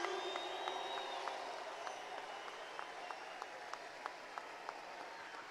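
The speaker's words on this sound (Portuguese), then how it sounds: "Eu acho que eles merecem mais aplausos, mais forte, mais forte" Crowd applauding at an outdoor street protest in Brazil, a steady, distant wash of clapping with a few sharper claps standing out.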